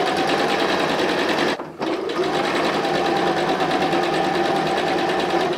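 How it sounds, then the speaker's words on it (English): A sewing machine stitches seam lines around a fabric square, its steady rapid whirring and needle chatter loud and close, running almost continuously apart from one brief pause. "we are going to sew on our seam lines all the way around in a complete square"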